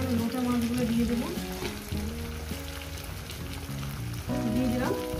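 Bombay duck (lote fish) sizzles steadily in a hot pan while cooking into a vegetable chorchori, with a dense, constant frying hiss over a low tonal background.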